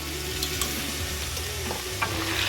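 Pork fried rice with garlic being stirred in a hot pan: continuous close sizzling and crackling, broken by soft scraping strokes of the stirring utensil.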